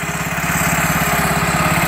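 A lawn tractor fitted with a snowblower attachment runs steadily, its engine giving a loud, close, even throbbing drone with no talk over it.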